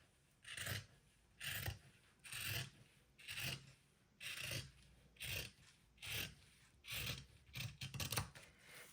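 Scissors cutting along the edges of a fabric book, about ten evenly spaced rasping snips in a steady rhythm, close and fairly quiet.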